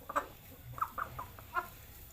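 A Bangkok hen, a fighting-breed chicken, gives several short clucks in a broken rhythm, close by and fairly quiet, with no voices.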